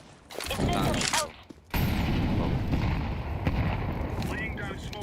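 An incendiary grenade going off in Counter-Strike 2: a loud burst and booming crackle, a brief drop, then a sustained roaring burn that carries on steadily, with a voice speaking over part of it.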